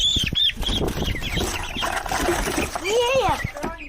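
Young meat chickens flap and scramble in bursts as they are moved out of a brooder, with chirping amid people talking nearby.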